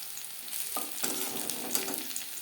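Bitter gourd slices frying in hot oil over low to medium flame, a dense, even sizzle with occasional spatula scrapes, close and steady, no speech.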